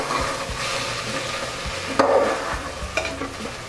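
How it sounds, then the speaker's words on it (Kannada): Mint leaves and onions frying in a pressure cooker, a steady soft sizzle with scraping stirs and a few louder clanks of the spoon against the metal pot. "ಈಗ ಈರುಳ್ಳಿ ಫ್ರೈ ಆದ ನಂತರ ನಾವು ಇದಕ್ಕೆ ಪುದೀನ ಸೊಪ್ಪನ್ನ ಸೇರಿಸ್ಕೊಳ್ತಾ ಇದ್ದೀವಿ, ಮತ್ತು ಇದನ್ನು ಸಹ 1-2 ನಿಮಿಷದ ಕಾಲ ಚೆನ್ನಾಗಿ ಫ್ರೈ ಮಾಡ್ಕೋಬೇಕಾಗತ್ತೆ"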